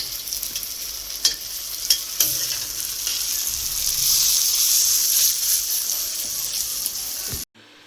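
Pakoras made from taro stem root frying in hot oil, a continuous bright sizzle with a few sharp crackles and pops, close and alone until it cuts off abruptly near the end.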